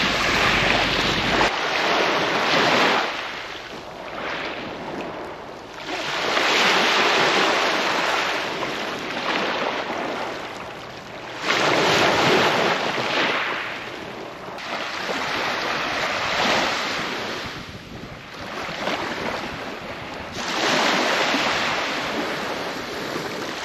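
Waves on a sandy Norfolk beach near Caister, surf washing in and out in slow repeating surges about every five seconds, with wind buffeting the microphone.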